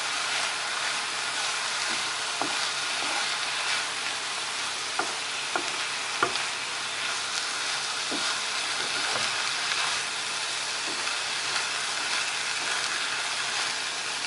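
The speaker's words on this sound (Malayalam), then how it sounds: "നന്നായിട്ടൊന്ന് ഇളക്കി കൊടുക്കാം." A plantain peel and green gram stir fry with chili powder sizzles steadily in a pan. Periodic scraping clicks of the stirring spoon cut through the continuous close-up frying hiss.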